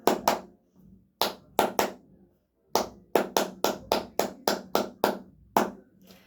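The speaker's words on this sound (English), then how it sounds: "just starting by clapping the rhythms" Hands clapping out the rhythm of a Gurlitt mazurka, sharp close claps in irregular groups with short pauses, then a steadier run of evenly spaced claps, alone with no talk.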